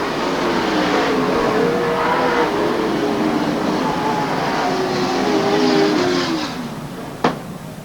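Race cars at Watsonville Speedway roar past as a pack, a loud continuous engine drone with pitch sweeps as they run side by side through turns one and two and down the back straightaway, easing off near the end with a sharp bang.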